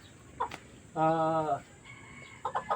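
Labuyo and Shamo chickens cluck nearby in short bursts, with one longer drawn-out call in the middle before a quick run of clucks.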